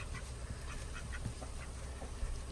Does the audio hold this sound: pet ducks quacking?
yes